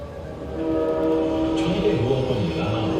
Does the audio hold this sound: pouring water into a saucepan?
no